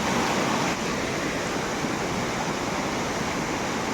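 Water in a stream in the Konkan flows and rushes in an even, unbroken hiss, close and moderately loud, with no voices over it.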